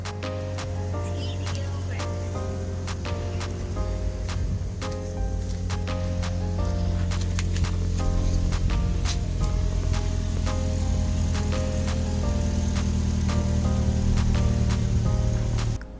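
A car exhaust leaking at the flange puffs out a steady, rapid ticking beat over a low idle rumble, close and continuous, with no voices.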